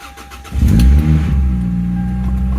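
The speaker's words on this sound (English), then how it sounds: "the car fires right up" A Toyota Celica GTS with patched-together silicone coolant hoses cranks briefly, then fires up with a loud burst and settles into a steady close-up rumble.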